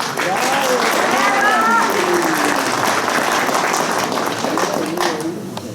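An audience at an education ministry training session gives sustained, loud applause, with voices calling out above the clapping as the crowd noise continues throughout.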